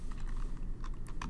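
Several keys tapped on a computer keyboard, including the tab key, giving a few light, close clicks over a steady low background hum.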